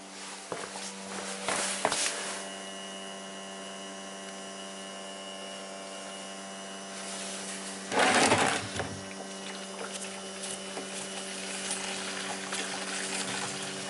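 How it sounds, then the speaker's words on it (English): A hot-wired fuel pump on a Chevy truck pushing gasoline through a 3/8 line into a can gives a steady mechanical whir and hum, with brief louder bursts of rushing flow and handling noise near the start and around the middle. "So now let's hot wire the pump and see if the gas flows."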